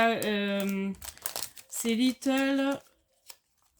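Sheets of paper, including white paper, rustle and crinkle in short bursts close by while someone talks over and between the sounds.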